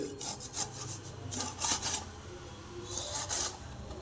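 A knife saws through a large lemon in several rasping strokes, each a short scraping rub, close and fairly quiet, separated by brief pauses.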